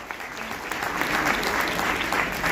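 Enthusiastic applause from an audience honouring a leader at an AWPL business event, a dense, steady wash of clapping that swells slightly and continues without a break.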